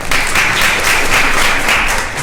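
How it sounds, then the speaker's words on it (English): An audience at a startup panel on wearables, drones and hardware applauds, a dense steady wash of many hands clapping at close range with no other sound. "Everyone clapped."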